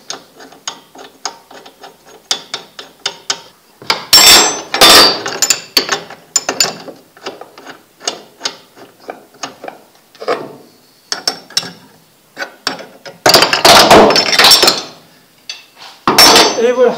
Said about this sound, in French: il suffit de le pousser là, et vous serrez l'écrou, enfin vous serrez la vis là